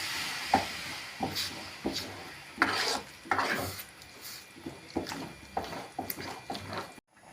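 Ground coconut and tomato being stirred into a sardine fish curry in a pan, with repeated scraping and rasping strokes of a spoon against the pot, close and moderately loud, no talking.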